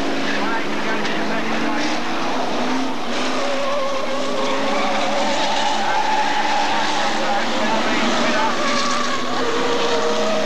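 Hotstox stock cars roar around the Birmingham oval in a continuous loud, dense engine drone with shifting revs and tire noise, a race commentator talking excitedly over the pack throughout.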